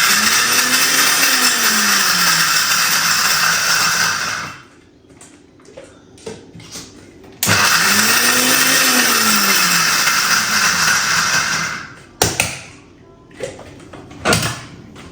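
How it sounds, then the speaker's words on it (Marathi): An electric grinder whirs loudly on spice mix for masala milk in two long bursts, each winding up and running steadily before cutting off, with clattering and handling noises in between. "आता ग्राइंड करून घेऊ"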